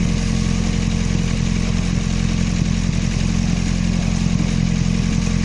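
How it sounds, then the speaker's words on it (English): The hybrid engine of a Toyota Prius on a training platform runs steadily at about 1300 rpm, giving a loud, continuous mid-pitched drone with no change in speed and no voices. "发动机转速1300多转"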